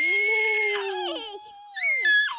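A voice imitates a horse's neigh with a loud, wavering, high-pitched scream that slides downward, breaks off, then rises again in a second shrill burst.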